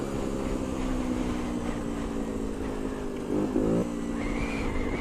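A Bullit Hero 50cc motorcycle cruising at about 40, its small engine holding a steady, continuous drone with wind rush, briefly rising in pitch midway.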